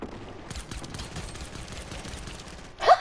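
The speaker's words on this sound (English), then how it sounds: "I killed him with my pistol" Pistol gunfire in Fortnite comes as a rapid run of sharp, fairly quiet shots layered over game noise, ending in a louder burst, with no talk over it.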